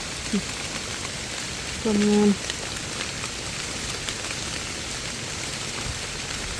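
Steady rain falling with wind during a termite-mushroom forage outdoors, a continuous broad hiss throughout, with a brief tone and some talk in the background.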